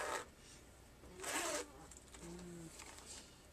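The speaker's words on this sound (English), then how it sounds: "you have your nice little pocket in the front here, which zips." The zipper on the front pocket of a travel bag is pulled in two quick, close rasping strokes, followed by softer fabric rustling and a brief faint hum.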